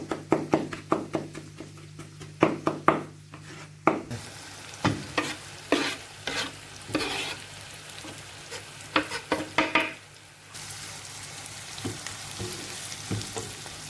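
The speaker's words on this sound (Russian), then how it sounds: "пока жарится лук" Onion and garlic sizzle steadily in a frying pan while a utensil stirs and taps against it in irregular sharp knocks, close up and without talk.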